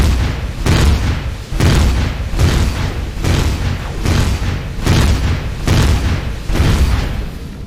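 Heavy turret fire hitting in the Empyrion space game: a steady series of loud, deep booming impacts about one per second, each with a rumbling tail, alone and up close.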